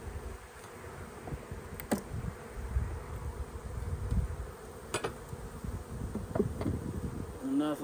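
Honeybees buzz steadily around an open hive during a hive change, a dense close-up drone with a few louder passes near the microphone, and no speech.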